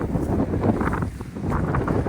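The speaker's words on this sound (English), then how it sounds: "It's too windy over here out of the wind." Gusty wind buffets the microphone in rough, uneven rumbles, loud and close, with no one speaking.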